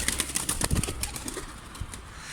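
A stray dirty-crested pigeon, caught near cleaned coops, gives short close wing flaps and a soft coo in a quick burst, then settles into quieter rustling.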